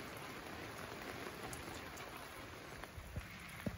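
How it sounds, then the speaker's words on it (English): Heavy rain pours onto a van awning in a steady, dense patter close overhead, with a few louder drips landing near the end and no voices. "So it is absolutely pouring with rain here today and has been all day."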